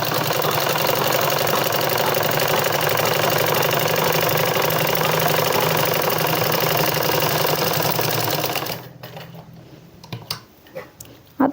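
Sewing machine running steadily as it stitches trouser pieces together with a half-inch margin, a loud continuous mechanical whir for about nine seconds before stopping, leaving a few small clicks and handling sounds.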